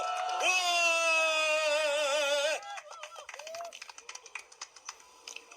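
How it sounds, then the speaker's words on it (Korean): A press conference outdoors opens with a long, wavering, loud tonal cheer or whoop. It gives way to sparse, uneven clapping from a small crowd that tapers off. "박수와 함성으로 열렬히 시작하게 도와주십시오"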